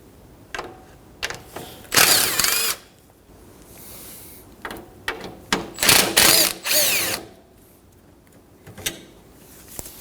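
A power drill whirs in short bursts, spinning out 8 mm bolts low on the AC condenser of a Ford Edge 2.0L, with ratcheting tool clatter and handling noises between runs, close up.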